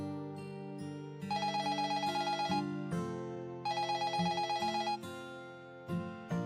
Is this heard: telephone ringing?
yes